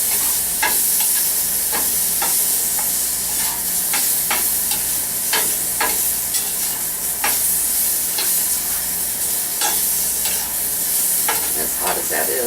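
Roasted, seasoned cubes of butternut squash reheat in a hot pan with a steady, close sizzle and hiss, while a spoon or spatula stirs them in scattered scraping clacks throughout.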